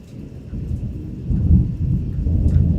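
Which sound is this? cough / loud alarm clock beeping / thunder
thunder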